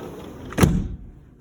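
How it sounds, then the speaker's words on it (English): An apartment door in a Seattle building swings shut with a single firm thud, followed by a quick drop to near silence, close by and with no talking. "right when you just close these 2 doors"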